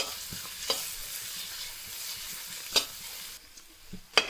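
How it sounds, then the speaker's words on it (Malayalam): Crushed onions sautéing in a pan over a low-medium flame, a gentle, fairly quiet sizzle broken by a few sharp spatula clinks and stirring scrapes. "ഉള്ളി ചതച്ചത് ഇടുകയാണ്. ഇനി ലോ ടു മീഡിയം ഫ്ലെയിമിൽ വെച്ചിട്ട് നല്ലപോലെ ഒന്ന് വഴങ്ങാൻ വേണ്ടി വെക്കണം."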